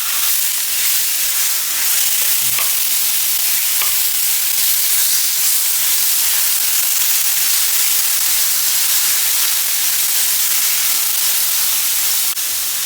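About 1.25 pounds of ground beef browns in a pan over medium heat as a wooden spoon breaks it apart, a steady loud hissing sizzle broken by a few faint scraping knocks, with no talking.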